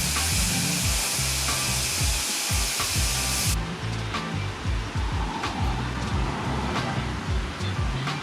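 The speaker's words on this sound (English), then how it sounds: "Let's go ahead and grind it and etch it." A Damascus steel billet with a twist pattern is ground, giving a loud continuous hissing roar. It is very bright at first, then settles into a duller steady grind with faint ticks, and no one speaks.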